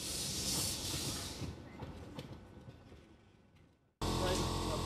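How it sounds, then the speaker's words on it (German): A steam railway train with a coupled brake van rolls along with a broad rushing hiss and rumble that slowly fades, followed by a short gap and then a sudden loud burst of noise. "Mit angekoppeltem Bremswagen geht's zum Wagenschuppen."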